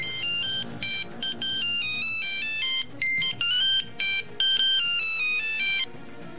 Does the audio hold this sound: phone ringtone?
yes